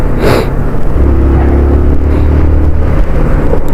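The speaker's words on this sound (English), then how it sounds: "I'm riding the Yamaha YBR 125, 125cc of course" A 2010 Yamaha YBR 125 motorcycle with a 125cc engine being ridden on the road around Leyton, a steady low engine hum and droning rumble buffeted by heavy wind noise, loud and continuous with no talk.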